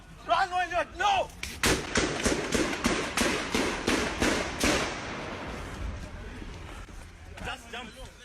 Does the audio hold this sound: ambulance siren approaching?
no